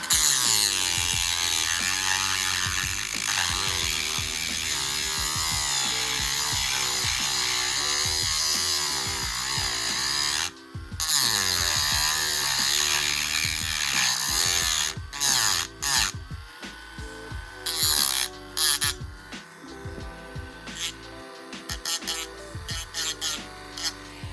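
A handheld rotary tool with a sanding bit grinds down a Toy Biz Dragon Man figure's neck part, a close, steady high whine that dips and surges as it presses in, then stutters in short bursts.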